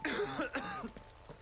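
A character in Final Fantasy XVI coughs several times in quick succession, a close, rough burst of coughs and throat clearing that fades into quieter breaths.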